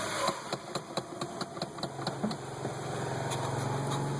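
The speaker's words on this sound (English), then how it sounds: "You can see it's idling right there." Honda H22A engine idling on its own after warm-up, a steady mid-pitched hum with a rapid rhythmic ticking in the first half, fairly close and moderately quiet, no talking.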